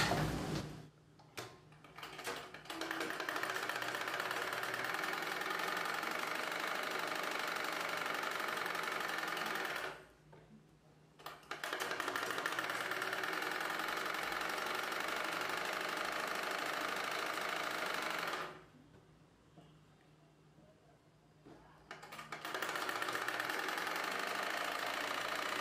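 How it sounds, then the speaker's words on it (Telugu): A sewing machine runs in long, steady bursts while stitching a collar belt onto a blouse piece, with a fast mechanical rattle and tick. Two brief pauses separate the runs, and it is heard close up without talk. "ఈ బెల్ట్ ని బ్లౌజ్ పీస్ పైవైపున పెట్టి కుట్టు వేసుకోవాలి."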